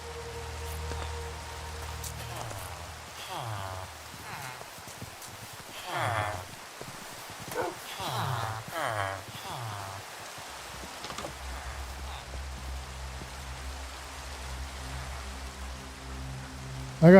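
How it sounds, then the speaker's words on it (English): Rain falls steadily in a Minecraft-style video game, a soft continuous hiss that stays at a moderate level across the whole stretch, with a few louder bursts partway through and some low ambient tones underneath. "Uh-oh, we're gonna have rain. We're gonna get rained out."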